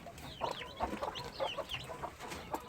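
A black mother hen and her chickens cluck in a farm coop, a run of soft, repeated clucks and peeps at a steady rhythm, fairly close and moderately quiet with no talking.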